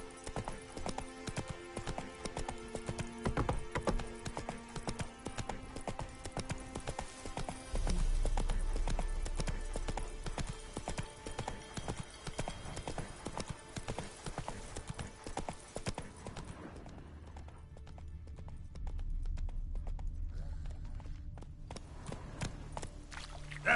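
Roach, a horse in The Witcher 3: Wild Hunt, runs at a fast pace, with loud, steady hoofbeats close by over a tonal game soundtrack. The hooves grow heavier partway through and fade near the end.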